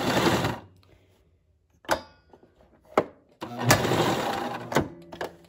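A sewing machine back stitches in short runs: a loud, close mechanical whir, a pause with a few clicks and knocks, then a second longer whirring run that stops abruptly.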